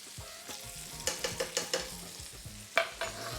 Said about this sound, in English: our garlic's just toasting up there nicely in the corner